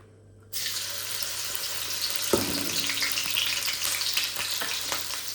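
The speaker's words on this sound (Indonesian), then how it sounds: "Sepertinya minyaknya sudah panas. Sekarang waktunya kita goreng ikannya ya." Small anchovies hit hot oil and fry with a loud, steady sizzle that starts suddenly and keeps on crackling, with a brief clatter partway through.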